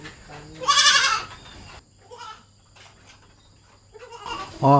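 A young goat at Tamu Eco Lenggeng, Negeri Sembilan, bleats loudly in a wavering, high-pitched cry. A fainter bleat comes in the middle, and another loud call starts right at the end.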